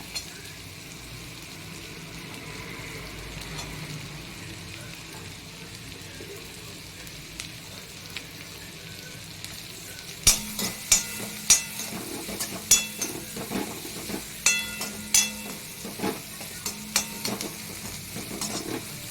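Vegetables are sautéed on high heat in a pan for paneer Schezwan fried rice, a quiet sizzle that turns into sharp, repeated clanks of a spatula against the pan in the latter half.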